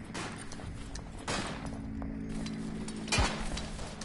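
Gunfire in the World War I shooter Verdun, a few scattered shots and a louder sharp report near the end, over a steady battlefield background with no talk.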